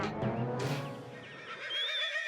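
A man in a Hindi comedy household scene imitates a donkey's bray with his voice, a loud, close, wavering whinny-like call with rising and falling pitch that carries on for a couple of seconds.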